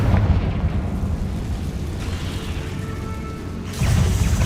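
Confringo spell explosions in Hogwarts Legacy, a loud deep booming roar that rumbles for several seconds, eases, then bursts again near the end, with no talk.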